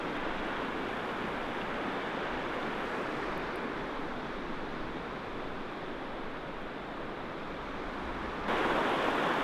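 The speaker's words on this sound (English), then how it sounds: "It's right next to the river here." A river rushes right beside a yurt at a spring campsite, a steady, dense, close wash of flowing water that swells slightly near the end, with no voices.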